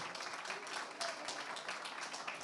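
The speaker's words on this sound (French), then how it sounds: "Sous vos applaudissements" Applause from an awards audience for the founder of a cultural and creative industries company receiving a trophy at a Europe-Africa forum ceremony, a dense, steady wash of clapping that fills the moment without a break.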